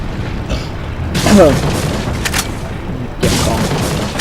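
An explosion goes off in the video game Resident Evil 4 as a deep boom with a burst of debris-like crackle. A second blast comes a few seconds later, and a voice talks over the game audio.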